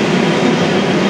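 A metro train roars loudly and continuously at an underground station, a dense rumble of wheels and carriages close by, with no speech over it.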